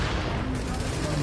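Gunfire in the video game Tom Clancy's The Division, a dense, continuous barrage of shots and booms filling the whole moment, loud and close without a clear break.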